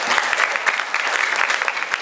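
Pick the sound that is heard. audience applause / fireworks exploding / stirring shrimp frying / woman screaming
audience applause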